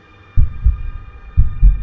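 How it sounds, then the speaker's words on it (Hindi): Heartbeat sound effect: a fast-beating heart thumps in two clear double-beat pairs, deep and close, over a faint steady hum. "आदि का दिल तेज से धड़कने लगा।"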